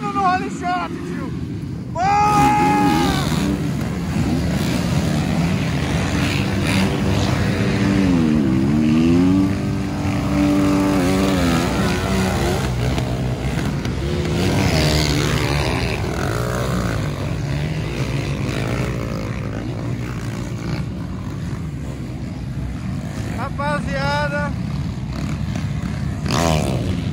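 Motocross bikes race in the MX3 class at a 2020 BRMX round in Penha, Santa Catarina, their engines revving and shifting pitch through the race. Someone talks excitedly over the steady motor noise throughout.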